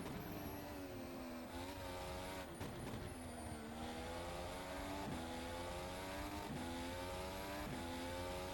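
A race car engine in rFactor 2 at Zandvoort screams at high revs, climbing through the gears with repeated quick shifts and braking downshifts, steady and loud with no speech.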